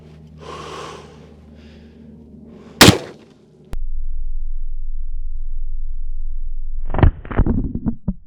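A single loud, close gunshot from a Taurus M44 .44 Magnum revolver firing a PMC Bronze jacketed hollow point, a sharp crack followed by a sustained low rumble and clattering noises; breathing is heard just before.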